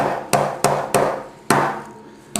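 A hammer strikes a punch to drive a twisted metal part out of a Beretta 92FS pistol, five sharp metallic taps spaced unevenly, close and loud.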